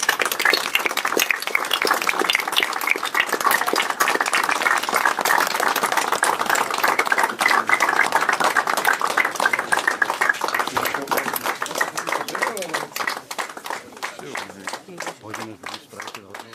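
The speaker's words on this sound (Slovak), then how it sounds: "Já jen ještě dodám, že ten potlesk byl mnohem delší." Long, loud crowd applause at a Slovak presidential election campaign headquarters, dense steady clapping that thins into scattered claps toward the end.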